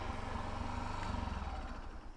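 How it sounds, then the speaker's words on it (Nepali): A motorcycle engine runs steadily at a moderate distance on a ride near Pokhara, with a low, even rumble throughout. "एउटा मान्छे सेतो बाइक लिएर आयो त।"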